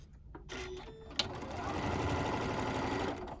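A sewing machine runs steadily at close range, stitching a seam on a DIY market tote bag, starting after a few brief clicks and humming evenly with no talk.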